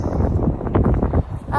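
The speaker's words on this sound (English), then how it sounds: "Hopefully you've heard me all right with the wind." Wind buffeting a microphone on the Devon coast, a rough continuous rumble with gusty swells and no speech.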